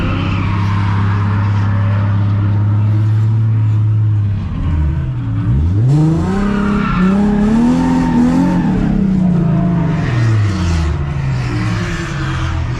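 A drift car slides around a track at a drifting event, engine revving and falling as long tire squeals rise and bend, loud and close with no talk.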